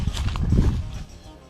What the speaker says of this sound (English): Look at the donkeys.